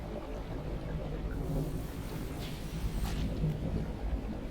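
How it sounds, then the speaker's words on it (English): Rumbling thunder in a rainy storm while fishing by boat in the video game Dredge, a steady low roar with brief crackling strikes, moderately loud and continuous. "Stop trying to strike us with lightning."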